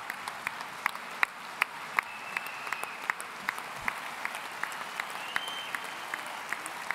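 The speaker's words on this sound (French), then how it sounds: "je pense qu'on peut l'applaudir à nouveau" Sparse, scattered clapping from an audience at a workers' solidarity meeting, with individual claps popping out at an uneven, moderate pace across the whole stretch and faint voices underneath.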